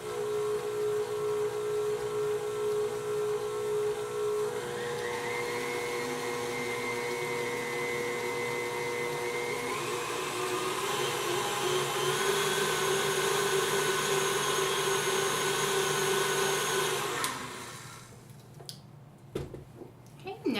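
An electric mixer beating homemade vanilla buttercream on low speed: a continuous motor whir with a steady hum that shifts pitch partway through, grows a bit louder, then cuts off near the end.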